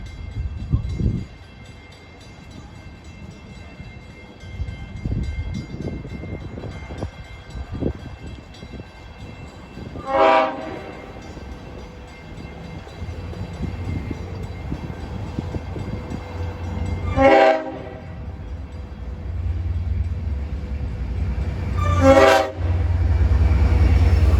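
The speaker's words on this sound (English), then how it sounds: "coming at 5:32 with an approach signal is train 560 en route from Hunters Point Avenue, Long Island City to Oyster Bay" Long Island Rail Road commuter train 560 bound for Oyster Bay arriving at New Hyde Park station during evening rush hour: a steady rumble builds as it nears, with three loud horn blasts spaced apart and a heavy low roar at the end.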